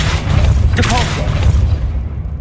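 Depulso spell cast in Hogwarts Legacy, a loud deep whooshing boom that swells and holds for a couple of seconds over heavy low rumble, with a brief voice partway through.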